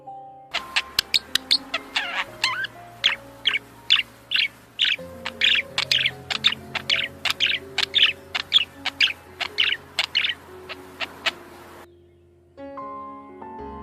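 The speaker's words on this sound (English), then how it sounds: "Male budgies are noisier than female budgies. Their chirp or song is also quite long than those of female budgies." Male budgies chirp and warble in a long, lively run of quick, bright notes, with close, busy song carrying steadily throughout before it trails off near the end.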